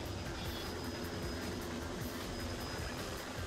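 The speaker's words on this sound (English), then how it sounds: "Here comes the infested helicopter." A steady, loud mechanical drone of an infested helicopter in the video game Devil May Cry 2, with a churning low rumble, continuous and unbroken, like a helicopter hovering nearby.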